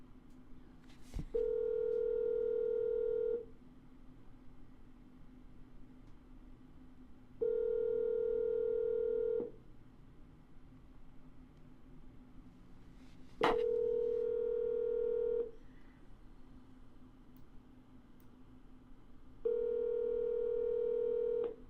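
A telephone line tone sounds during an outbound call, four steady two-second tones repeating at even intervals with quiet line hiss between, clear and alone.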